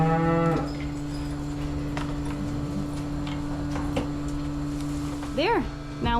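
Dairy cows on a Maine farm low with a loud, sustained moo at the start and a second rising moo near the end, over steady barn hum and scattered clicks.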